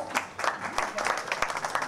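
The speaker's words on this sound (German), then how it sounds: "Können wir Applaus?" An audience at a body-language talk applauds as a volunteer is called onto the stage, brisk clapping from a crowd, close and lively, with a voice heard through it.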